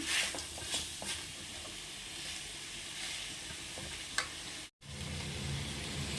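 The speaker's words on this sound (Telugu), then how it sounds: "ఇలా డ్రైగా డ్రై అయ్యే వరకు ఫ్రై చేసుకోవాలి" Chicken pieces frying dry in a pan, a steady close sizzle with soft stirring clicks and scrapes, broken by one short silent gap before the hissing resumes.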